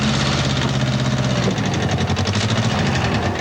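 A tractor engine runs steadily close by, a low droning rumble with a faint rhythmic knock; its pitch shifts slightly partway through, with no voices present.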